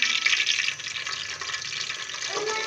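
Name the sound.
cumin seeds frying in oil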